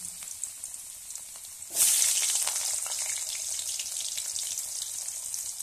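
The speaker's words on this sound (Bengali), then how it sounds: "আর এই দেখো আমি আলুগুলি আগে একটু লাল লাল করে ভেজে দিচ্ছি" Potatoes hit hot oil, a sudden loud hiss that jumps in partway through and settles into a steady, bright frying sizzle, close up with no talk.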